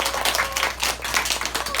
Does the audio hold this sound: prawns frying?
no